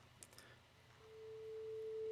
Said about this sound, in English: what I've got set up here is just a whole bunch of sine wave generators